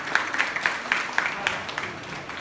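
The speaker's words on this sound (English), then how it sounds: "Please clap for them." A small audience claps for students on stage at a Bhagavad Gita-based values Olympiad event, a sparse, evenly spaced patter of individual hand claps lasting a couple of seconds at moderate volume.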